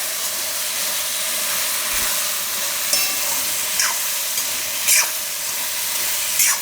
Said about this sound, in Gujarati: વચ્ચે વચ્ચે હલાવતા રહેવું.